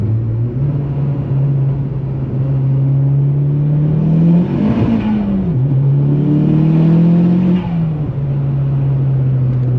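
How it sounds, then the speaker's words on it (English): A VW Mk4 R32 fitted with a cold air intake accelerating hard on summer tires in cold weather, its loud, close engine drone rising and falling in pitch as the tires spin, with a throaty intake sound and no talking. "I got summer tires and it's like 35 degrees out, so of course it's just gonna spin"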